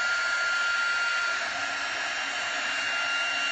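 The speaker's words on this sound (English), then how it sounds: "turn on the dryer again, and sometimes it kind of helps it go down" A new hair dryer runs steadily at close range throughout, a constant loud whooshing blow with a faint high whine and no voices over it.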